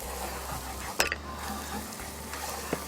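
Garlic frying in a wok while being stirred, with a continuous sizzle and scraping metallic clinks of a utensil against the pan, close and clear.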